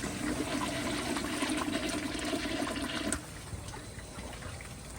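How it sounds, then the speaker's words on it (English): A 1994 elongated Kohler Wellworth Lite toilet flushes with a grocery bag in the bowl: a loud, steady rush of water for about three seconds, then a sudden drop to a quieter refill trickle. "So here's one last flush with the grocery bag."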